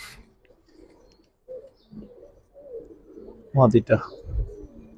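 Giribaj pigeons cooing in a loft collection: a few low, throaty coos close by, mixed with handling noises and a voice talking over them.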